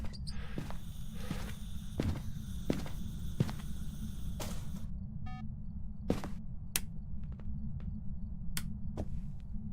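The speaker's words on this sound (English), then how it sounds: "Krampus' loud footsteps." Krampus stomps through Phasmophobia, his heavy footfalls mixed with sharp, irregular clicks and knocks, loud and near.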